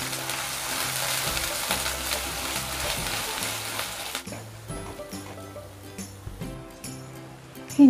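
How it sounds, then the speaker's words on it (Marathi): Onion and coconut paste frying in hot oil for a spicy Maharashtrian curry, a strong close sizzle that dies down partway, followed by quieter crackling and light stirring scrapes. "तेल गरम झालं आहे, कांदा खोबऱ्याचं वाटण घालून घेते."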